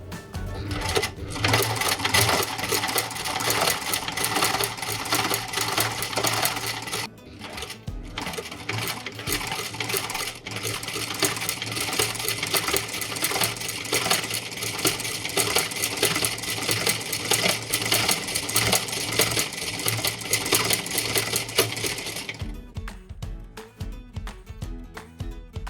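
An embroidery sewing machine stitches fabric in a steady, dense, fast mechanical whirr that runs loud and unbroken for nearly the whole stretch before abruptly cutting out near the end.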